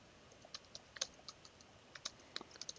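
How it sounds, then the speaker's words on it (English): Typing on a computer keyboard in a terminal session, a quiet sequence of sharp individual key clicks spaced irregularly with short bursts near the end, close but faint with no talk. "then I type something here"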